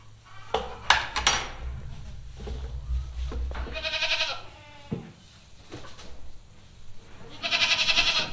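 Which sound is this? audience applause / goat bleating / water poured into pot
goat bleating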